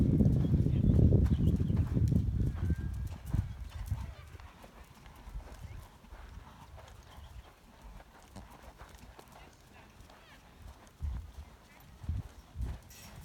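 During a riding lesson, horse hooves clip-clop loudly and rhythmically at first, then fade to softer, scattered footfalls while an instructor talks over them.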